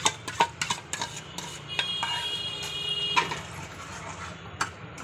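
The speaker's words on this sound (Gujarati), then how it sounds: "ગ્રેવી હલાવી નાખી ગ્રેવી હલાવીને" Spoon stirring tomato gravy with onions in a metal pan: repeated light clinks and scrapes against the pan, with a soft simmer underneath, close and moderately quiet.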